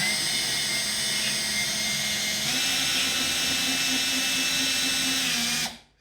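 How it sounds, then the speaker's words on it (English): A handheld power drill stands in for the spindle motor on a CNC 3018 machine converted to a 4038, whining steadily and loudly at close range for about six seconds, its pitch rising slightly midway before it cuts off abruptly, with no talk. "Now, there's my drill. It's replacing that motor for the moment"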